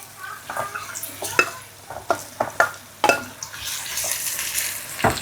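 Lokio (Chinese chives) stirred into a pan with dried shrimp, sizzling steadily while a utensil scrapes and clinks against the pan in repeated close strokes.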